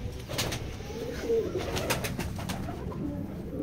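A male Rampuri pigeon in a loft coos softly amid a dense, steady background of other birds and rustling, with several sharp clicks or taps scattered throughout.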